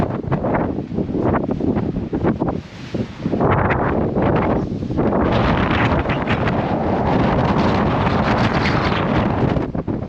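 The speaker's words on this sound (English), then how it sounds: "Pretty windy up here, and I lost the sock to my camera" Loud, constant wind buffeting an uncovered camera microphone with gusty roaring and rumbling, steady throughout with no voices, in Edinburgh, Scotland.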